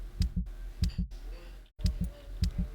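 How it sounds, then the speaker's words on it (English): Paired thumping heartbeat thuds from the video game Vampyr, repeating in steady double beats, loud and close, with a brief dropout of silence midway. "sounds like a heartbeat every time I change"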